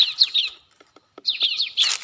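A recorded call of a bar-winged prinia (ciblek), played from an MP3 player as a lure, gives loud, close, high chirping trills in two bursts, separated by a short near-silent gap with faint ticks.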